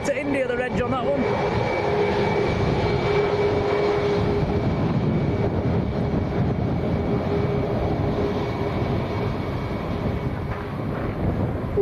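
Volotea airliner taxiing and powering up for takeoff at Lanzarote airport, a loud sustained roar of jet engines with heavy wind buffeting on the microphone throughout.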